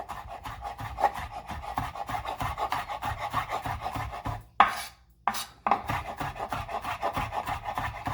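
A knife chops fresh garlic on a board in a home kitchen, with quick, steady scraping taps repeating throughout, a brief pause partway, then the chopping resumes.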